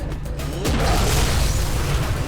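A heavy gun fires in the shooter game Vivisector, a single loud booming blast with a burst of noise and a rumbling tail, close and dominant.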